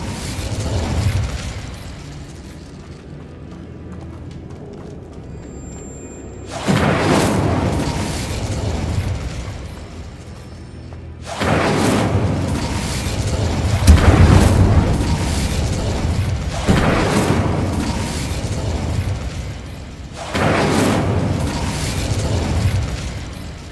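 The Incendio fire spell in Hogwarts Legacy goes off as several heavy, roaring blasts. Four or so loud bursts of fiery whoosh and rumble are separated by quieter pauses.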